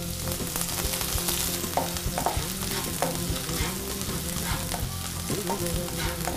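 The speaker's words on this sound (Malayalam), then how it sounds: "നമുക്ക് ഈ ക്രഷ് ചെയ്ത് വെച്ച ഇഞ്ചിയും വെളുത്തുള്ളിയും ജസ്റ്റ് ഒന്ന് ഇട്ട് സോട്ട് ചെയ്യാം." Crushed ginger and garlic sautéing in a hot pan, a loud continuous close sizzle with constant stirring and spatula scrapes throughout, no talking.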